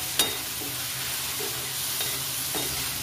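Salted chicken fries in a pan with a continuous loud sizzle, punctuated by a few brief scraping stirs at irregular intervals.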